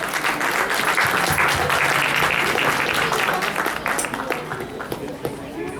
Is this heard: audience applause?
yes